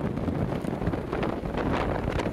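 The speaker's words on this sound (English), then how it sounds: "boy, it's windy" Strong wind buffets the microphone on an exposed hilltop near a castle overlooking the Black Sea coast in Istanbul, a steady low rumble with gusty swells throughout and no voices.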